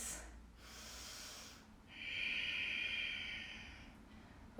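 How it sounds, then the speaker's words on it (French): Slow Ujjayi yoga breathing during a warrior-pose session, a soft airy inhale followed by a longer, louder hissing exhale through a constricted throat, close and quiet with no talking. "Retrouve ta respiration, Ujjayi."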